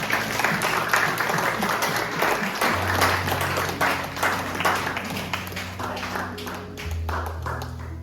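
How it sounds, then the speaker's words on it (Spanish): A church congregation applauds in praise during a worship service, sustained dense clapping across the room with steady loudness, low organ or keyboard tones sustained underneath. "Vamos a darle un aplauso al Señor por su amor y misericordia"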